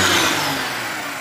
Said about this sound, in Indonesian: Nanti kita tunjukkan saat kita gas kejut di knalpot ngebul hitam.